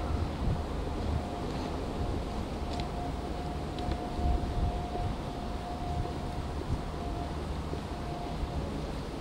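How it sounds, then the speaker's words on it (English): Strong wind buffets the microphone along Victoria Embankment in London, a continuous loud rumbling roar that gusts unevenly throughout, with no talking. "Windy, I don't know what I can do about that."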